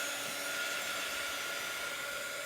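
A hair dryer blowing steadily to dry chalk paste on a craft project, a constant airy whir with a high-pitched motor whine, close and unchanging throughout.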